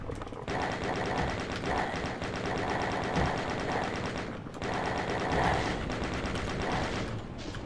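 Rapid automatic turret fire in GZDoom, a dense, loud stream of rattling shots pausing briefly twice, layered with mechanical clatter and game noise.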